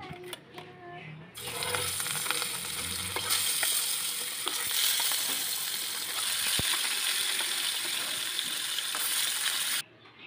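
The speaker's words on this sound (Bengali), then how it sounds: "মাছগুলো ভাজা হয়ে যাচ্ছে, আমি অল্প আঁচে ভেজে নেব" Colombo sea fish fry in hot oil in a wok over low heat, a steady close sizzle that swells loudly after a quiet start and holds, with a few clinks and scrapes, then cuts off near the end.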